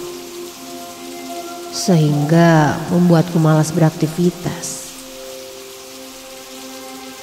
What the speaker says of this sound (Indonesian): Pada hari itu, hujan terus menerus dari pagi sampai sore,